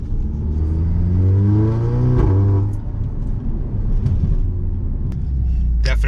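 An Audi FSI/TFSI turbocharged car with an upgraded high-pressure fuel pump piston accelerates hard, its loud, close engine note climbing steadily in pitch and then dropping back before surging again.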